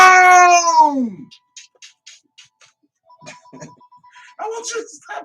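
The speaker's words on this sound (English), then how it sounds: "answer the phone!" A telephone rings during a live call-in radio show, a faint pulsed ringing tone heard after a loud voice drops away, followed by people talking again.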